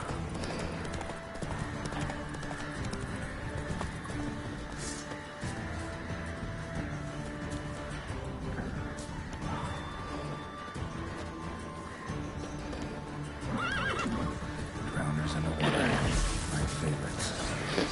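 Horses clip-clop and whinny in The Witcher 3 video game, steady hoofbeats with creaking tack and gear, a louder neigh near the end, over game ambience.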